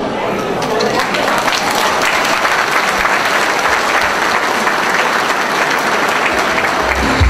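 An audience at a political speech gathering gives loud, sustained applause, with a dense wash of clapping that holds steady throughout and a few voices mixed into the crowd noise.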